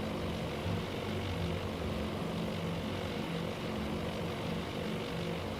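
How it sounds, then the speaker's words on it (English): Steady, droning propeller roar of dive bomber engines flying in Task Force Admiral, a constant broadband hum at even loudness throughout with no voices. "These dive bombers are returning to base."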